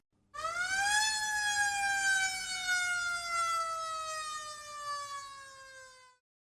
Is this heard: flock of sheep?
no